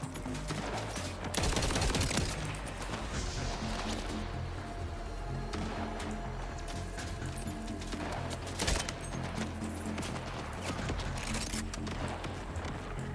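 Heavy, booming gunshots from an underbarrel shotgun in the shooter game Borderlands 4, several blasts spread across a loud, busy combat mix with no clear talking.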